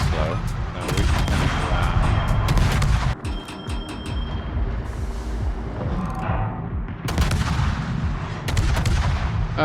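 Heavy naval gunfire in World of Warships from the Dutch cruiser Groningen firing at the Los Andes: dense, rapid salvos of booming shots and rumbling blasts that continue almost without pause, loud and close throughout.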